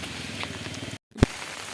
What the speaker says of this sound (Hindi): तो देख सकते हैं आप कि कितनी बारिश हो रही है